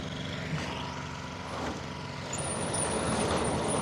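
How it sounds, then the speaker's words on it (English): Heavy machinery works to drag a buried 1965 Ford Mustang out, a steady diesel engine rumble with clanks and scraping throughout, a high whine rising near the end, at moderate distance. "we had to use some heavy machinery"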